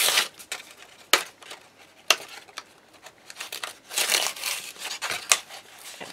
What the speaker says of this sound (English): So the first thing we're going to do is open everything.